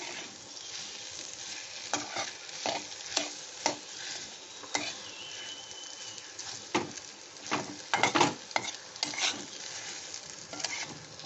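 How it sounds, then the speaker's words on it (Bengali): Chicken croquette filling of mashed potato is stir-fried in a pan, a soft continuous sizzle broken by repeated scraping and knocking stirs, busiest near the end; no talking. "দিয়ে এটা ভালো করে একটু কষে নেব।"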